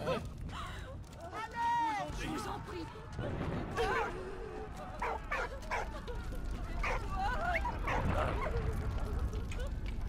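A dog in the video game Valiant Hearts barks and yips in short bursts amid game action, mixed under excited talking, with the dog sounds coming in scattered, moderately close calls.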